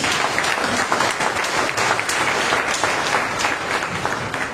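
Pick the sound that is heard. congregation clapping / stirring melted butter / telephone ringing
congregation clapping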